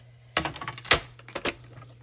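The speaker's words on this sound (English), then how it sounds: "I think I'm going to trim this" A paper trimmer slices through a thick scrapbooking tag, giving a few sharp, close clicks and a brief scraping cut with short pauses between strokes, heard alone over a faint low hum.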